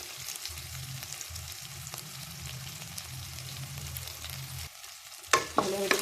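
Chopped onions and green chillies sizzle steadily in a hot pan with cumin and mustard seeds, with a near, continuous frying hiss and a spoon scraping and stirring throughout, louder clattering toward the end, and no talking.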